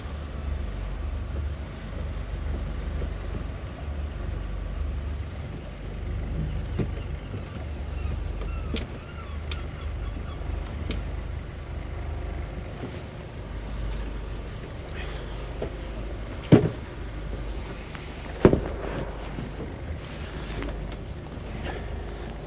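A boat engine idles at tick over with a low, steady rumble throughout, mixed with wind and water noise, and two brief knocks stand out near the end.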